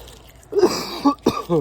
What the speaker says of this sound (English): besides my coughing